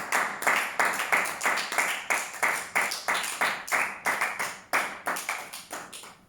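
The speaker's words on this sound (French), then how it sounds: "tu acclames le Seigneur" A church congregation claps in a fast, steady rhythm, loud and close, each clap sharp and evenly spaced in unison like praise clapping during a worship service.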